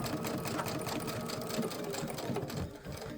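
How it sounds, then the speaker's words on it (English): A sewing machine stitches steadily across the ends of a zipper with the needle set to the left, a continuous close, loud mechanical whir with rapid rhythmic needle chatter that dips briefly near the end. "so I switch my needle position to the left, lower my foot, and stitch across."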